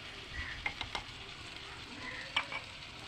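Salt and turmeric fry in a hot pan and are stirred, giving a steady soft sizzle broken by a few sharp spoon scrapes and knocks against the pan.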